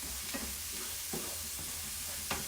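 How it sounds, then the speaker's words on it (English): Onion sautéing in a pan for meal prep, a steady soft sizzle with a few faint stirring scrapes and clinks, quiet and continuous with no voices. "onion's gonna saute, and I saute it until it starts to turn a little brown"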